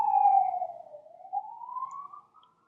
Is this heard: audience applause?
no